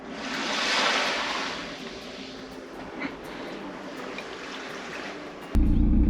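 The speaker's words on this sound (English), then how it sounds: "Waking up the next morning to the sound of the water breaking on shore was so peaceful and relaxing." Waves breaking on the shore of Bahia Concepcion in Baja California, a broad rushing wash that swells early on and then settles into a steady surf roar, with a sudden louder low rumble near the end.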